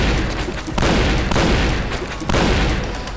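Shotgun fire in the online shooter game Point Blank comes as loud, booming blasts, about three heavy shots in quick succession over continuous noisy game sound.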